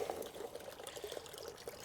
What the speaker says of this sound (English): Try and get most of the water out.